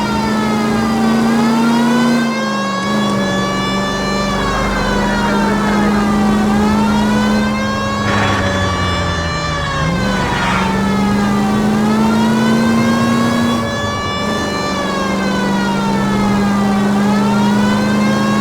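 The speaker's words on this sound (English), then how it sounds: "We've got a siren for a reason." Police car siren in the L.A. Noire video game, wailing in steady rising and falling cycles over a loud, close car engine that revs and accelerates throughout, with no talking.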